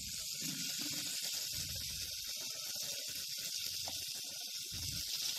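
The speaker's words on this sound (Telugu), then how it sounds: "పచ్చిమిరపకాయలు ఆయిల్ లో బాగా కొంచెం ఫ్రై చేసుకోవాలన్నమాట" Green chillies fry in hot oil in a pan while making gongura dal, giving a steady close hiss and sizzle with faint bubbling crackle and no talk.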